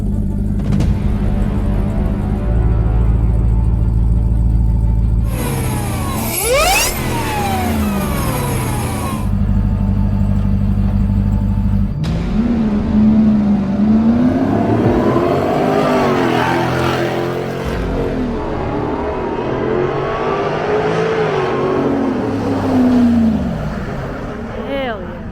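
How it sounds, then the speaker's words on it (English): Supercharged Hellcat Hemi V8 in a Jeep, revving loudly with a steady drone, a sharp rising whine and sweeping pitch changes as the engine climbs and falls, mixed with passing traffic noise and no talking. "this thing makes a lot of supercharger sounds"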